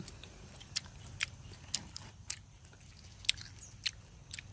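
Ripe ambarella fruit bitten and chewed in a garden, with sharp crisp crunches at irregular intervals, close and fairly quiet, over a soft background hiss and no talking.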